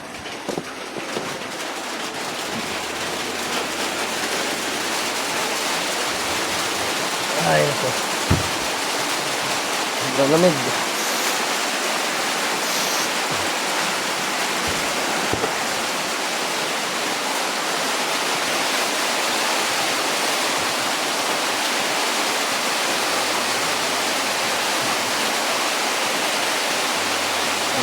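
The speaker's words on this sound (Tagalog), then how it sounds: "Ano ka, bumalik yung ulan." Steady, heavy rain hisses and roars throughout, close and continuous, with a person briefly speaking over it.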